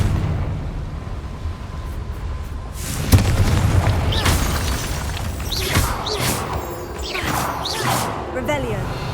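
Spell explosions from the Confringo fire curse in Hogwarts Legacy, a loud burst landing about three seconds in, followed by more blasts and whooshing effects over a steady game soundscape with a voice speaking.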